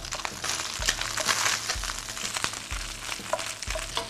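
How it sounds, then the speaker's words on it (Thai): Mackerel stir-fries in hot oil for fried rice with salted egg, a constant bright sizzle broken by regular scraping, thumping strokes of the spatula, close and loud with no talk. "เราต้องผัดปลาหรือคั่วปลาเนี้ยให้เขาเปลี่ยนกลิ่นเป็นกลิ่นหอมๆก่อนนะครับ"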